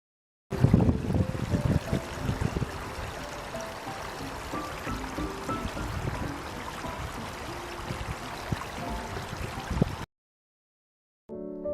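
A small spring brook, fed by early spring meltwater, babbles and trickles steadily, a continuous gurgling flow close by, with no voices.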